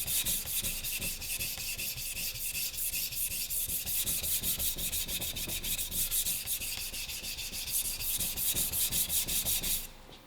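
A Japanese carbon-steel knife with soft cladding, a Blue #1, is sharpened on a coarse Gesshin 400 whetstone, giving a close, steady gritty scraping in rapid back-and-forth strokes for about ten seconds before stopping abruptly.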